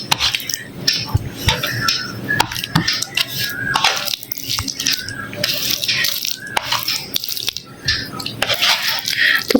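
Cutlery scrapes and clinks on dishes during a home meal, steady irregular taps and scratches close by, mixed with background television sound.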